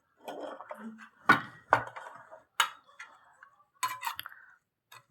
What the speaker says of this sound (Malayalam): ഈ പൊടിയിട്ട് നമ്മൾ അങ്ങനെ കൂട്ടി ഇളക്കി എടുക്കുകയാണ്